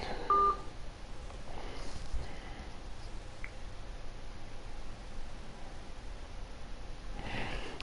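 Telephone dialing tones sound briefly at the start over a steady hiss of line noise, faint and alone, with a few soft breathy sounds scattered through.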